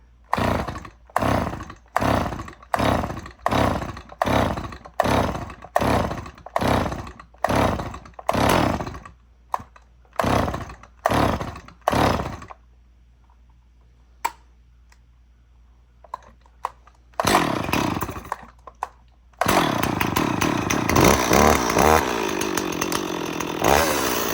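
Stihl 026 chainsaw set on the ground being pull-started with the choke on: a long run of loud, evenly spaced cord pulls, then a brief pause, a few more pulls and finally a short burst of sputtering engine roar as it catches.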